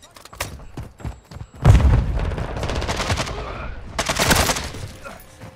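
Gunfire in Call of Duty: Modern Warfare 2 goes off as sharp single shots, then a heavy burst of rapid automatic fire with booming impacts and another loud volley later. The shooting is close and loud, with some game voice chatter mixed in.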